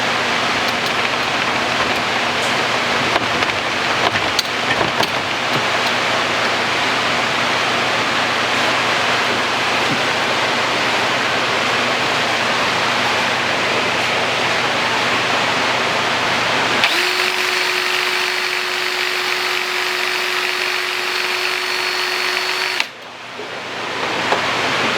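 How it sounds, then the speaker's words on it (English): Microgreens harvester cutting through a flat of cabbage microgreens, a steady broadband whirring hiss that runs throughout, with a brighter motor tone entering near the end before cutting off. "I'm going to adjust the harvester and bring it down."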